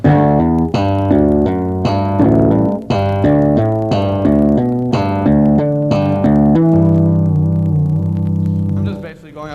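A bass guitar plays a slow melodic lick, notes picked one at a time with an open string ringing out at the end, loud and clear.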